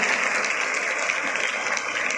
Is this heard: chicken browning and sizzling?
no